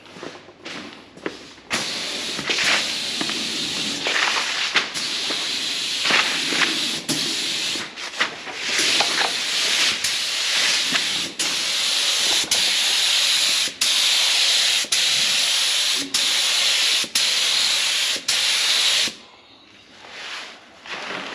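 A spray gun hisses steadily and loudly while applying primer to a 1995 Miata, in long continuous passes cut by brief trigger releases, stopping near the end.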